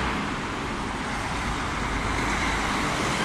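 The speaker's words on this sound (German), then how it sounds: "Oh, jetzt kommt ein LKW." A truck rumbles through a loud road underpass, a dense steady roar of traffic noise that swells slightly as it passes, close by with no talk.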